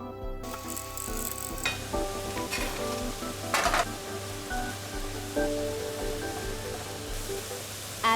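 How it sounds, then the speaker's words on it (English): Minced meat and onions frying in a pan, a steady crackling sizzle with occasional louder pops and stirring scrapes, close up and without talk. "Add the minced meat and onions to the pan and mix."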